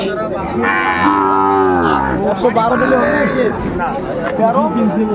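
Sahiwal bull calves low at a cattle market, with several long drawn-out moos sounding close, over a constant murmur of a crowd talking.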